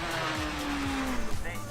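A C8 Leon race car on a Super Lap Scotland timed lap gives a steady, fairly loud engine tone that drops in pitch as it slows, with brief tyre scrub near the end.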